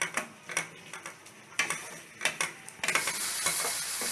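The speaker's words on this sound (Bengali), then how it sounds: "আঁচটা মাঝারি রেখে আমি মশলাটাকে কষছি" Spiced paste with sugar stir-fried in oil over medium heat, a spatula scraping and tapping the pan in irregular strokes while a steady sizzle builds and swells louder toward the end; no one speaks.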